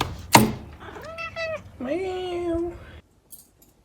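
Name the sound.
neighboring cat meowing to come in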